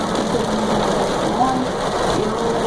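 Heavy rain pours down in a loud, constant hiss on the way to college, with a voice faintly speaking beneath it.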